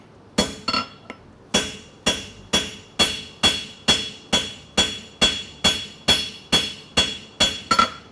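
Steel hammer blows on a bob punch set against a horseshoe clip in a forge, a few uneven strikes then a steady run of about a dozen sharp, ringing metallic hits at an even rhythm, close and loud.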